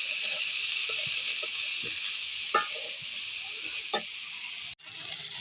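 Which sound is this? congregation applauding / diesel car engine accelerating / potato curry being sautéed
potato curry being sautéed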